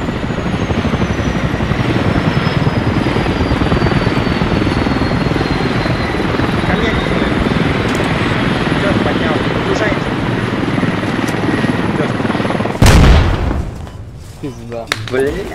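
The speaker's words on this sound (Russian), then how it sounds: "вертолет подлетит" A helicopter's rotor in the game Squad thumps loudly and steadily, close by, before cutting off abruptly with a sharp burst.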